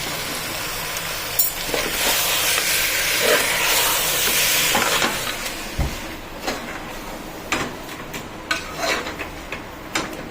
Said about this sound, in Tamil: தயிர் சேர்த்துட்டு நல்லா கலந்து விட்டுருவோம்.